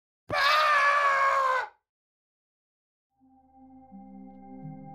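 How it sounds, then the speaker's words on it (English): A Minecraft screaming goat lets out its final scream when killed, a loud, harsh, bleating cry lasting over a second, followed by silence and then soft, low game tones. "You may get so frustrated with the screaming goat that you decide to kill it, but it will leave you with one final scream"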